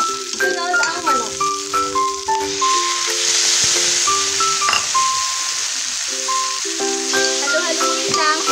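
Chicken frying in a hot pan with garlic and onion, giving a continuous hissing sizzle under prominent background music.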